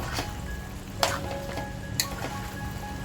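Raw green peas go into sizzling smoky mutton keema in a pan, giving a steady soft frying hiss with a few sharper crackles and clicks of stirring, close up and with no talk.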